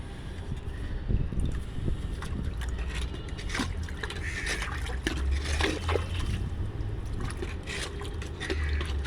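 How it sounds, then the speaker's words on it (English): Rainwater gushes from a cleared rooftop drain in steady rain, a close, continuous splashing flow with bursts of trickling and dripping and some wind noise on the microphone. "Just see, water will now gush."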